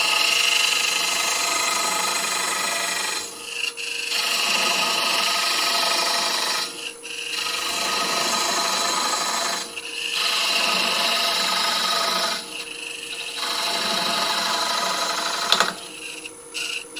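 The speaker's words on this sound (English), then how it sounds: "I'm just going to part off. Overlap the parting cut by half a cut." A wood lathe taking a parting cut on a colourful eccentric woodturning, with a steady loud scraping rasp broken by several short pauses at regular intervals, close up and with no talk.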